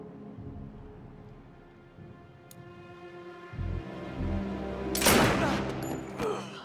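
Gunfire in the Batman: Arkham Knight finale, a loud sharp burst of shots breaking over a low droning game soundtrack, with no talk.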